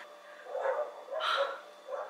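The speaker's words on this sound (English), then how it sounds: "My dogs are going crazy outside." Several dogs bark outdoors, coming through faint and distant from indoors in a few short bursts, with no talk over them.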